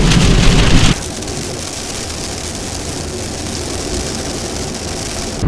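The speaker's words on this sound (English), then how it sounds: "It's raining heavily here in Cappadocia." Heavy rain in Cappadocia pours down in a steady, dense hiss, loudest at first and then continuing as a constant wash of drops with no voices.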